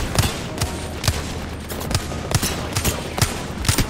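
Bursts of rapid gunfire from a firefight in Apex Legends, with sharp shots spaced unevenly and landing in quick clusters at close range, loud against a low background hum.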